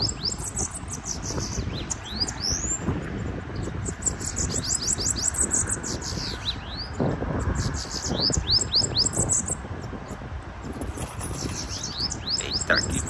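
A small songbird, a sibite, chirps in quick repeated high sweeping notes, near and lively, inside a moving car over a constant rumble of car noise, with no talking.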